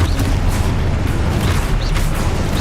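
A spell explosion from the Hogwarts Legacy video game, heard as a loud, dense rumbling boom that holds steady for a couple of seconds, with no talking over it.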